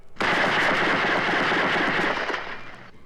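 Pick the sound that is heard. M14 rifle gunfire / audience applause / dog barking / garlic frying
M14 rifle gunfire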